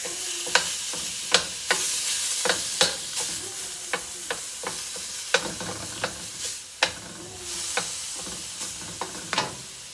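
Meat and garlic brown in a frying pan with a constant sizzle, broken by sharp, irregular clacks of a utensil stirring and scraping the pan, close up.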